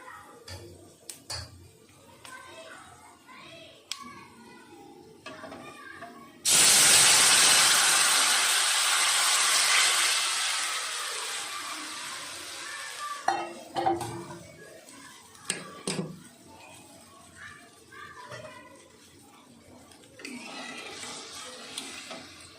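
Prepared sugar syrup poured into a hot pan sets off a sudden loud hissing sizzle that starts abruptly, holds strong for several seconds, then fades into a softer simmer with scattered clinks around it.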